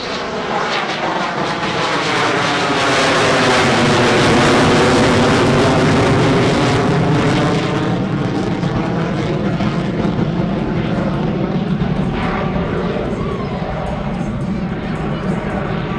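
An F-16CJ Fighting Falcon jet roars past at a naval air station airshow, a loud sustained engine rush that swells and slowly fades, with crowd noise faintly beneath.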